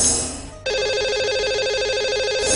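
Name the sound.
telephone call ringing for lucky caller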